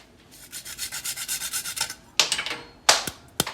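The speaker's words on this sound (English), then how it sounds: "I'm gonna go ahead and grate the nutmeg straight into here." Whole nutmeg scraped against a grater straight into a pot of rice pudding, a quick run of rhythmic rasping strokes followed by a few louder, sharper knocks and scrapes as the nut slips, close and alone.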